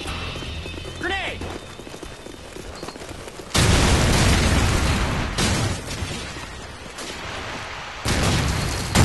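A grenade explosion in Call of Duty 4 during a search-and-destroy match, a sudden loud, broad blast cutting in midway with a rumbling tail, followed later by another heavy burst, over game noise and voices.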